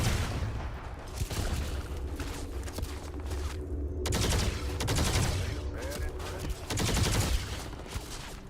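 A gun in Starfield fires in repeated bursts of rapid gunshots, loud and close, spread across the whole stretch with brief gaps between volleys.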